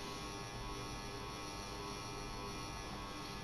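Electric fan humming in a room, a constant, steady broadband whir with no pauses, running alone in the background.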